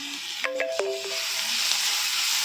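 Coriander leaves and mint frying with chicken in an oiled pan for a broiler chicken pepper dry, a steady close sizzle with a few brief clinks of stirring near the start.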